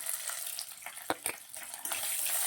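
Garlic and ginger paste frying in a pan, a close continuous sizzle broken by a few scraping knocks as it is stirred, with no talking.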